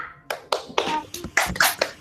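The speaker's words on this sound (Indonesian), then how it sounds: "Tepuk semangat" Children clap in unison to a rhythmic classroom chant at a kindergarten, sharp claps landing in uneven bursts over about two seconds, fairly close with no voices between them.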